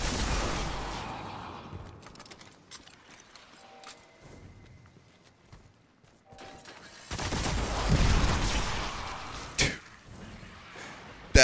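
In Destiny, Thunderlord gunfire rattles in bursts amid game effects, with quieter stretches and a louder barrage toward the end, no clear talking.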